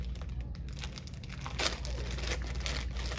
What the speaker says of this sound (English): So I'm going to peel up this portion and open up